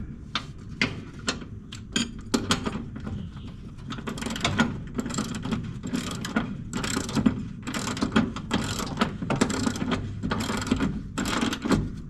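A ratchet wrench tightens the deck belt on a Cub Cadet LTX1045 riding mower, giving a long run of quick, uneven metallic clicks up close, in bursts with brief pauses and no voices.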